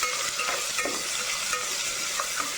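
Ginger paste sizzles with golden-brown onions in a pan as it is stirred for gongura chicken biryani, a steady, fairly loud hiss and crackle with soft scraping throughout.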